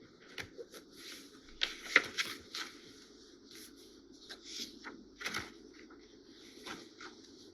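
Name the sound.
pages of a library book being turned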